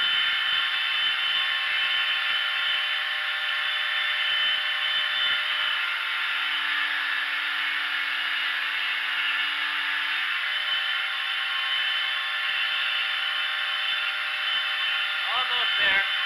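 A 2x72 knife belt grinder runs steadily while a knife edge is ground against a multi guide, producing a constant high whir that holds level and close throughout, with a faint rattle near the end and no talking.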